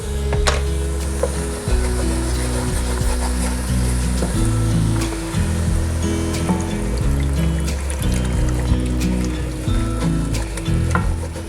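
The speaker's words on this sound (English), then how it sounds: "I am gonna kind of stir and deglaze the pan" A hot pan is stirred and deglazed with liquid while the browned bits are scraped from the bottom, giving steady sizzling and scraping under continuous background music.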